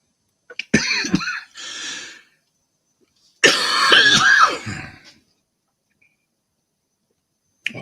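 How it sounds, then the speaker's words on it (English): A man coughing and clearing his throat indoors in two separate bursts with quiet gaps between, close to the microphone. "Oh, don't start coughing."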